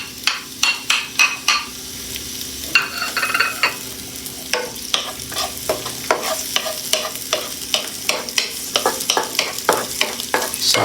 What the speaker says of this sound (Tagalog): Pagsasabayin ko na mga kaibigan yung ating onion tsaka yung ating garlic